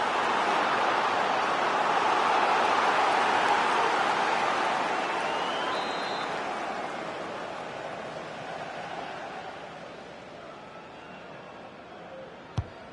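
Stadium crowd in the FC26 football game reacting to a corner: a broad, loud roar of many voices that swells, then slowly fades, with no speech over it.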